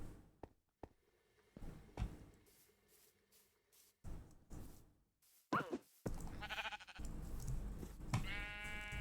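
Sheep in the Minecraft video game give a couple of bleats over scattered clicks and knocks of game sounds, fairly quiet overall.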